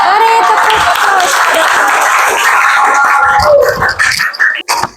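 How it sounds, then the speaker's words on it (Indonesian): An audience in a classroom breaks into loud, steady clapping that holds for several seconds and then tapers off, with voices mixed in. "Mari tepuk tangan."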